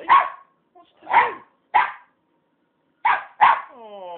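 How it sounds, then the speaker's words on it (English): A dog gives several separate barks with pauses between them, close by, ending in a higher drawn-out whine. "You're not barking properly"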